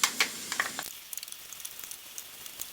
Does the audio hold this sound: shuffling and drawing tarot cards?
no